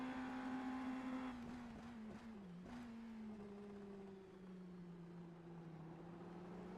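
Indy NXT race cars in iRacing at Laguna Seca, a sustained engine drone that dips and shifts down through corners, then a second car's note rising alongside, steady and unbroken throughout.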